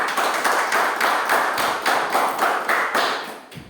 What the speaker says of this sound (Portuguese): Com as palmas, louvemos ao Senhor.